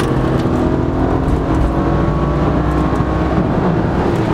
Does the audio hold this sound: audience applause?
no